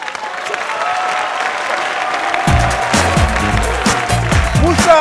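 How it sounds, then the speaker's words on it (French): Audience applause at a French-language comedy show fills the clip, growing louder and busier partway through as cheering and clapping swell together. "Donc faites beaucoup d'applaudissements pour le soldat sans grade, Daouda Traoré."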